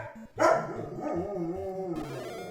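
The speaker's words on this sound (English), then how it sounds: "there's my puppy in the background" A puppy barks and yaps in the background over the bleepy music of an NES Paperboy game, sharp mid-loud barks early on, then whimpering and yipping cries that carry on throughout.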